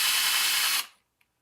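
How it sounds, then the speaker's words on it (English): A power drill carving lines into a pumpkin, a close, high whirring buzz that runs steadily then winds down and stops, followed by a tiny click. "I'm just using the drill and I'm going to follow the lines all the way around"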